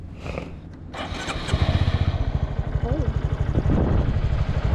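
Motorcycle engine cranks briefly, then catches and settles into a loud, close, steady pulsing idle, with a faint voice underneath.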